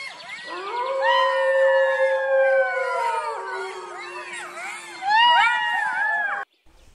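Several cartoon jackals by a dark forest howl at night in long, rising and falling wails that overlap and layer into a loud chorus. One final burst swells louder before the sound abruptly stops.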